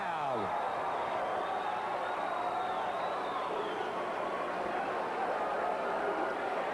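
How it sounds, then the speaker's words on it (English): A wrestling crowd at a Continental Wrestling event roars wildly as a female wrestler tags in, a dense, loud wall of cheering and whooping that holds steady throughout. "And the crowd goes wild."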